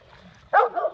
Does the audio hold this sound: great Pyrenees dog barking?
yes